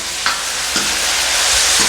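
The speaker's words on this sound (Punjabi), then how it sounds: "ਨਾਲ ਨਾਲ ਬਰਾਬਰ ਜਿਹੜਾ ਹੈਗਾ ਇਹਨੂੰ ਹਿਲਾਉਂਦੇ ਰਹਿਣਾ ਕੜਛੀ ਦੇ ਨਾਲ" A tempering for mustard greens saag sizzles loudly in a pan while a ladle stirs it, producing a few soft scraping strokes over the constant frying hiss.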